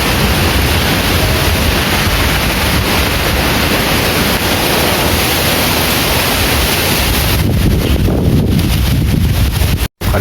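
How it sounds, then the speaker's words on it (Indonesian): Strong wind roars and buffets a microphone outdoors during a windstorm that is toppling and snapping trees, a loud continuous broadband rush that holds steady for about ten seconds before a brief dropout at the end. "Anginnya masih gede banget."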